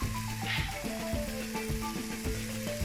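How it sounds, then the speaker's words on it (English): Cumin tipped into a pot of frying onions and celery sizzles in a steady, close crackle, with a sustained tonal melody running over it the whole time. "I'm going to put a bit of cumin into the pot right now"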